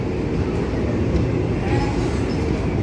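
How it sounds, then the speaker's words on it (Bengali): A passenger train on the hilly Lumding route in Meghalaya rumbling through a long tunnel, heard from inside the carriage as a steady, loud, enclosed roar with faint rattling. "অন্তত 2 মিনিট টাইম নিয়ে নিল এই টানেলটা ভিতর থেকে ট্রেনটা যাওয়ার জন্যে"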